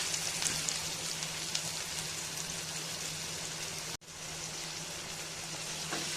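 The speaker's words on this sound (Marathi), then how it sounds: "आता आपण कापलेला मोठा कांदा टाकून घेऊया।" Chopped onion fries in hot oil with crackling mustard seeds and cumin for korla bhaji, a steady, soft, even sizzle that runs throughout with a brief dropout partway through.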